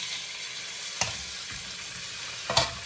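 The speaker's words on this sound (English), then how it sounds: "I'm just going to like stir fry this." About three pounds of thinly sliced beef stir-frying in a pan gives off a steady sizzle, broken by two sharp clanks of a utensil against the pan.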